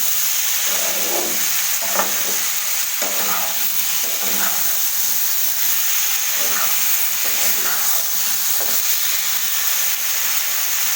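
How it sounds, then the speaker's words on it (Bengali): Spices fry and sizzle in a pan for papaya egg curry while a spoon stirs them in repeated scraping strokes, close up and steady, over a constant hiss. "এইভাবে নাড়াচাড়ি করতে হবে। নাড়াচাড়ি না করলে মশলাগুলো লেগে যাবে।"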